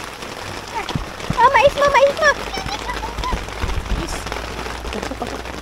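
Heavy rain pours down at a campsite, a steady loud patter and splashing on surfaces while people, including a child, talk over it.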